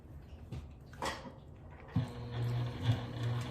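A sewing machine stitching a phone bag at a 3/8 seam with a lengthened stitch, starting after a couple of soft handling knocks and running as a steady, close motor whir with a rhythmic needle pulse for the last half of the clip.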